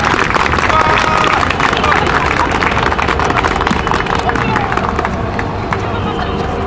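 An outdoor crowd at a lawyers' street rally in Seoul claps and murmurs loudly, with hubbub and scattered voices mixed into constant clapping.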